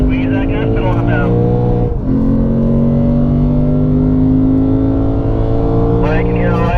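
Lexus car accelerating hard down the front stretch of a race track, engine droning loudly with steadily rising harmonics, a brief dip around a gear change, then climbing again, with someone talking over it.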